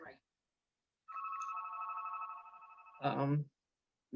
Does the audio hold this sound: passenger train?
no